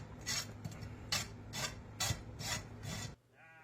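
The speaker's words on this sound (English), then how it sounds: "I'm going to rasp the nails, get them nice and squared up" Farrier rasping down the clinched horseshoe nails on a mare's hoof, several rhythmic gritty rasp strokes, close and distinct, each a short scraping burst before stopping abruptly; no speech.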